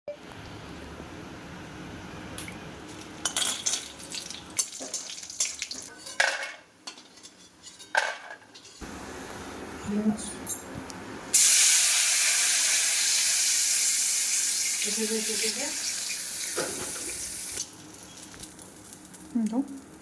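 Ash gourd going into a hot pan for a home-cooked vegetable dish, a loud burst of steamy hiss that holds for several seconds after clattering utensils and pan knocks, with someone talking nearby.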